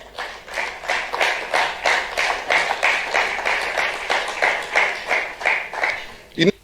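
Sparse, rhythmic clapping from a political audience, a run of regular claps at a moderate distance that sounds weak and thin, ending with a sharp knock.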